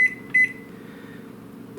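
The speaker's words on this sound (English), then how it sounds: "the key to running a microwave is it has to be a Panasonic inverter microwave set on power level 3" A Panasonic inverter microwave oven set to power level 3 hums steadily at low volume, with a few short electronic beeps at the start and one more at the end.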